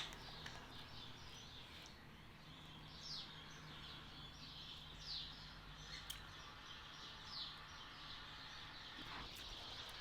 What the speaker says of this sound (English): Every afternoon there's all these birds in the trees outside. Picks it up real bad in the microphone.